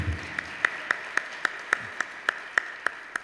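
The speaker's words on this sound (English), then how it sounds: "we really want to give Congressman Raul Grijalva a round of applause for supporting the arts" A small audience at a high school arts showcase claps in a slow, regular rhythm, individual hand claps spaced about a third of a second apart, moderately close and with no voices over them.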